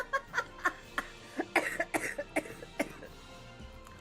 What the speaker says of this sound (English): Hold on, I have to cough.